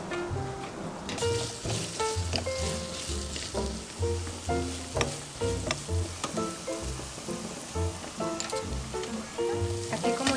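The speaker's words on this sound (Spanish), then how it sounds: "Y también vamos a freír hasta que esté bien cocido el tocino." Chopped chives and bacon fry in a pan, a dense continuous sizzle close up, overlaid by repeated stirring scrapes and clacks of a utensil against the pan.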